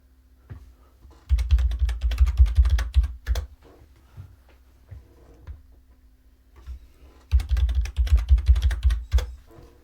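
Fingers tap a computer keyboard up close while a password is entered on Pop!_OS Linux, in two fast rapid-fire bursts of keystrokes separated by a few isolated clicks.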